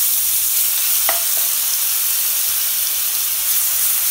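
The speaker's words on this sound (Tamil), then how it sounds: "இதில் நம்ம அரைச்சி வச்சுருக்கக்கூடிய இஞ்சி பூண்டு பேஸ்ட் லைட்டாக போட்டு வதக்கிடலாம்." Ginger garlic paste sautéing in hot oil in a pan, a steady close sizzle and hiss that runs unbroken throughout with no talking.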